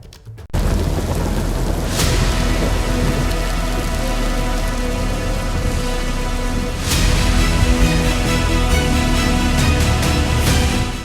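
Heavy rain pours steadily during flooding in Delhi, a loud, dense, continuous hiss of drops striking surfaces, with low rumbles underneath and no voices.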